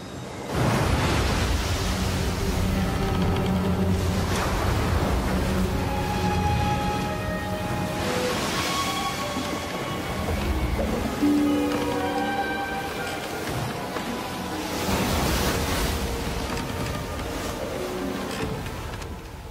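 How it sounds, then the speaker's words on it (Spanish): Rough sea churned by a strong wind: a steady, loud broadband roar of surging water and gusts, swelling and easing throughout, blended with a sustained musical score. "el mar estaba agitado porque soplaba un fuerte viento"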